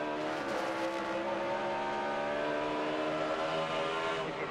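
Robbie Gordon's NASCAR Toyota works through turn 11 at Sonoma in the 2009 Toyota Save Mart 350, its engine droning loud and steady with a rising and falling pitch as it carries through the corner.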